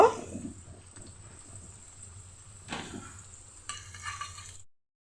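Lentil fritters frying in leftover oil from frying potatoes while a Bengali vegetable dish is cooked, a steady close sizzle with stirring scrapes and a couple of brief louder bursts as batter goes in.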